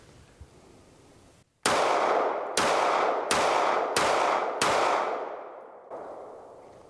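Kimber CDS9 pistol firing 147 grain jacketed hollow point rounds: five loud, sharp gunshots in an even, fairly quick string, each with a ringing decay, followed by a quieter trailing sound.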